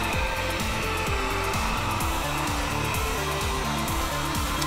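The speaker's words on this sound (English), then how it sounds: "Make sure you turn off the heat gun" Heat gun blowing hot air over leather, a steady loud whirring fan hum with a repeating cyclic wobble in pitch, close and continuous without talk.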